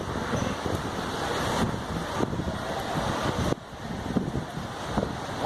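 Strong gusty wind in Fortaleza, roaring and buffeting against the microphone in steady blasts with sudden shifts, loud and close, no voices heard.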